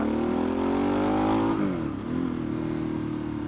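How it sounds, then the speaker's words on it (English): A 2022 Harley-Davidson Sportster S with a TBR exhaust runs loud and close, engine note rising steadily, then dropping sharply as it downshifts and settling into a lower steady drone. "it sounds amazing when you're downshifting, the pops and bangs and stuff."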